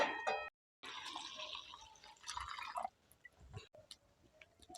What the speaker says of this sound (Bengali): এই দুধটা এখন সরাসরি কড়ার মধ্যে দিয়ে দিচ্ছি